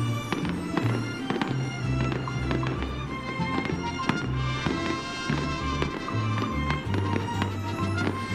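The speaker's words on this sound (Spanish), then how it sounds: "Y los fuegos van como al ritmo" Fireworks at an Independence Day grito celebration pop and crackle in quick repeated bursts over orchestral music with steady sustained tones, the blasts moderately distant and loosely keeping time with the music.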